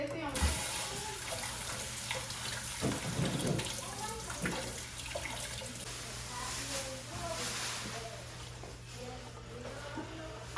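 Tap water runs steadily from a kitchen faucet while mushrooms are washed for a spaghetti dinner, with voices talking over the continuous splashing stream.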